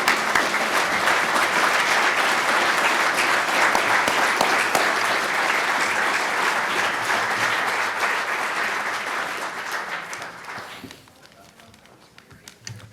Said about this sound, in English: Let's just give one more round of applause for our panelists and our moderator, Michael DeWilde, tonight.